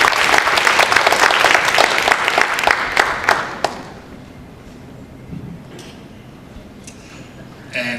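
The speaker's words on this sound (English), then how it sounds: "Round of applause, please." Loud applause from an audience at a health event in South Western Sydney bursts out, holds for about three and a half seconds, then cuts off, leaving a quiet room with a few soft knocks.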